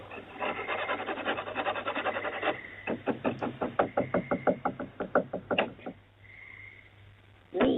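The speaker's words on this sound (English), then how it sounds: "as they scratch and knock on the back door" Rough scratching against a back door gives way to a rapid run of about a dozen sharp knocks, then a few slower raps and a final thump, heard fairly close through a doorbell camera.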